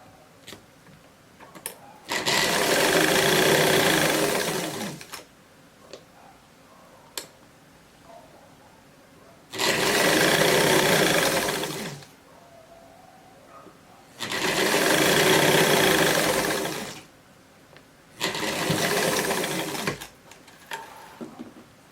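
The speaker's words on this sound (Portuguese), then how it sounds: "Agora sim, você pode passar a costura." A sewing machine stitches a zipper into a beginner's skirt, running in four separate loud whirring bursts of a few seconds each, with quiet pauses and faint handling noises between them.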